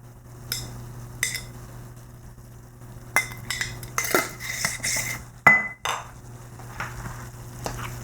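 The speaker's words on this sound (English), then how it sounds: "I'm adding these directly to the pan to get heated up as well." Pre-cooked sweet potatoes dropped into a pan and broken up with a utensil, a run of close metallic clinks, knocks and scraping strokes over a faint steady hum, irregular and busy, without talking.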